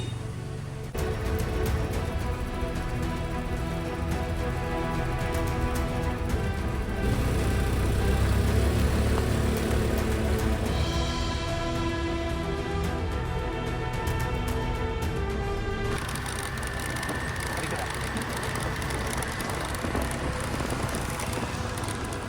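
Moda Moca 110 motorcycle climbing the road up Genting Highland, its small engine droning steadily and close throughout, with broadband wind rush over the microphone and a slight change in pitch partway through.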